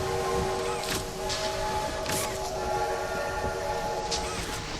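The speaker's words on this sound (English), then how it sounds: "decides to blow the whistle" A train whistle blown in the video game Poppy Playtime Chapter 2 sounds as a few tonal blasts over a steady rumble of rolling rail cars, moderately loud and continuous.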